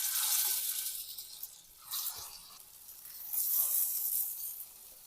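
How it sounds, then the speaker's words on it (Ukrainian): Meatless cutlets sizzle and hiss in sunflower oil in a frying pan over medium heat, the crackling swelling and fading in waves. "І обсмажую з обох сторін на середньому вогні."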